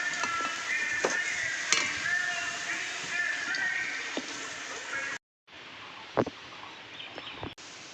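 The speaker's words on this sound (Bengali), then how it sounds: "আলুগুলো ভালো করে ভেজে নিলাম" Chopped potatoes with salt and turmeric fry in oil in a pan, giving a steady bright sizzle with occasional clinks and stirring clatter, briefly cut off then resuming.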